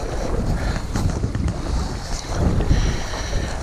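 Wind gusts hard across a small boat out on open water, a loud continuous rush with microphone buffeting and water noise underneath.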